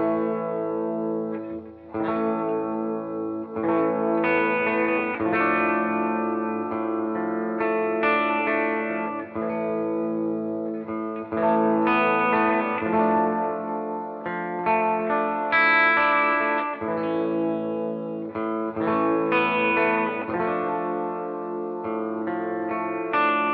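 A Donner DLP-124 Les Paul-style electric guitar plays melodic lines and chords through chorus, distortion and echo effects for over twenty seconds, steady and close, with no talking.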